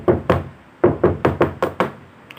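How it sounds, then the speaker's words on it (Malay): Someone knocks on a door from the inside: seven hard, close thuds in uneven groups, each ringing briefly, with a faint tap after them. "Sekali lagi pintu tu kena ketuk dari dalam."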